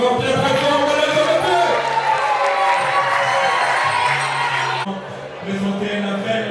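Wedding guests at a religious marriage celebration clap and cheer loudly as a crowd, sustained whoops and applause filling the room, with an amplified voice and music underneath; the noise drops off sharply near the end.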